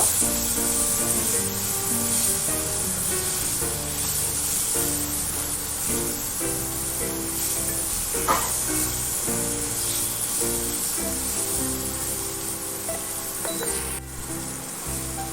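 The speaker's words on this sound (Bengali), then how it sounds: "একটা বড় টমেটো দিয়ে দিলাম, টমেটোটা একটু ভেজে নেব" A large tomato fries in a hot pan with peanuts, giving a steady, close sizzle throughout, with occasional light clinks of a utensil against the pan.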